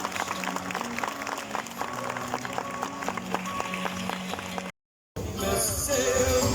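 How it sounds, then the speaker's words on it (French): Zoo crowd applauding during a sea lion show at Beauval, fairly distant clapping under music and park sounds, cut by a short silence before a brighter, noisier passage. "Mais je pense que nous pouvons à nouveau applaudir Amy."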